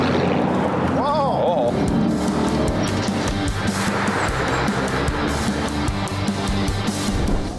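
A 2008 Ford Mustang GT on a test drive gives off a continuous engine drone and road rumble throughout, while people in the car exclaim loudly over it.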